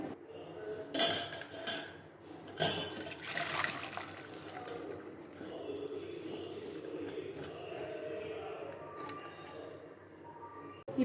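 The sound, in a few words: draining water from boiled cluster beans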